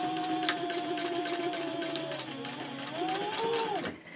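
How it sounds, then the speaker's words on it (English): A sewing machine stitches the gusset seam of a Bellezza handbag at a 3.0 stitch length, running steadily and close for about four seconds under background music before stopping. "I'm sewing the gusset in."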